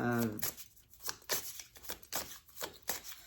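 A deck of goddess oracle cards is shuffled up close in quick bursts of riffling, about six rapid slaps spread over a few seconds, with a brief voice at the start.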